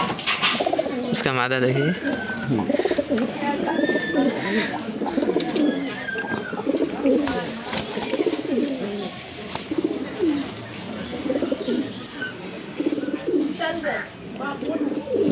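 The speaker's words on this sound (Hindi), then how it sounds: "बहुत अच्छा नस्ल का कबूतर है।" Madrasi pigeons coo repeatedly at close range in a loft, their low rolling calls overlapping under someone talking, with a few chirps from other birds.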